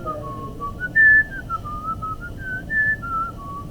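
A person whistles the Tetris theme alone, a clear, wavering melody of short rising and falling notes with a couple of louder, sharper peaks, close and unaccompanied.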